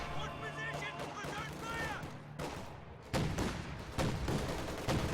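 Machine gun fire from an MG34 in a wartime video game battle, sharp distant bursts and crashes growing louder toward the end, with someone talking over them.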